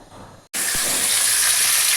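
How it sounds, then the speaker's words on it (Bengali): Fish drop into hot oil in a wok: after a brief quiet moment a loud, close sizzle bursts in suddenly and holds as a strong, even crackle. "কড়াইতে তেল গরম হয়ে গেছে এবারে মাছগুলো আমি এক এক করে ভেজে নেবো"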